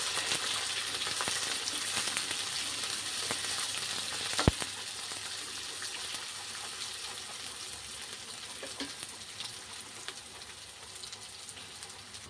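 Curry leaf sprigs and a cup of onions sizzle in hot oil in a covered pan, a steady close hiss throughout with one sharp clink partway through and faint stirring, no voices.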